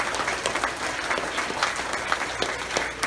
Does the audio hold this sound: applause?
yes